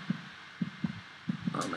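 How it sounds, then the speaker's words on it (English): A heartbeat in a Minecraft horror map set in an orphanage basement: paired low thumps repeat at a slow, steady pace, fairly loud over a quiet ambient bed, with a brief higher rustle near the end. "Why do I hear a heartbeat?"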